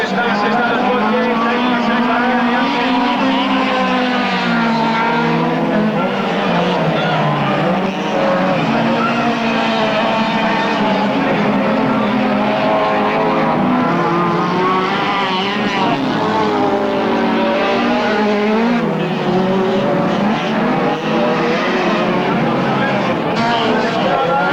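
A Honda Civic races at the 1993 Master Autocross in Arteixo, its engine screaming loud and continuous as revs climb and drop through gear changes, with tires squealing and an announcer talking over the noise.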